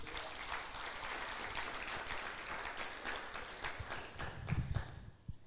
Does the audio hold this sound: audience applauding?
yes